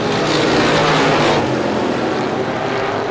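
Race cars roar around a short-track speedway in a loud, broadband engine rumble that swells as a car passes close, then eases into a continuous background drone.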